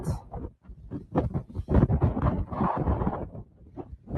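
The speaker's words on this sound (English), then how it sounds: "The wind is so strong." Strong gusts batter the microphone on an exposed cliff-top hike at Lincoln's Rock, Wentworth Falls, coming as loud, irregular low buffeting bursts and brief lulls, close and rough, with no voices.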